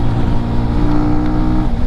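Benelli TRK 251 250cc motorcycle engine pulling hard, a loud, steady buzzing drone with dense harmonics that swells slightly toward the end.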